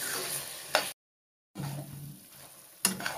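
Fried sweet potato pieces drop into a pan for an egg curry, giving a steady low sizzle with stirring scrapes, a sharp clatter near the start and another at the end after a brief gap of silence.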